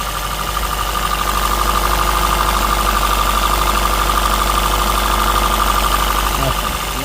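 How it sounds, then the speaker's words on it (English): A 2014 Honda Grace Hybrid engine runs rough with a misfire, a continuous uneven mechanical drone close by, with a cooling fan whirring throughout. "So right now we have a misfire. The fan is on. The vehicle's running really rough."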